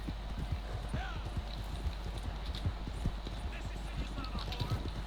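Horse hooves clip-clop steadily in the Red Dead Online game, a quick repeating trot of sharp knocks continuing throughout, with people talking over it.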